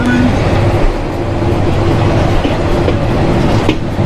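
Tista Express train running along a curved stretch of track near Jamalpur, giving a steady loud rumble and clatter of wheels and carriages throughout.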